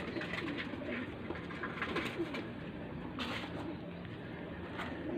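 Soft pigeon cooing and fluttering close by, a low continuous murmur of bird sounds with no talking.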